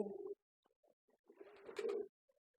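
A pigeon's low, throaty cooing sounds close by, a short coo followed by a longer, rolling one after a pause.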